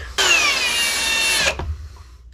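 A power drill bores holes in a Jeep panel with a dull bit, giving one loud, close, high whine that runs for over a second and then cuts off, with no talk over it.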